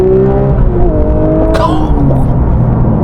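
Porsche 992.1 GT3 Touring engine pulling hard, a loud steady drone with rising and falling harmonic lines as revs shift, near and continuous with cabin rumble and a brief higher whine mid-way.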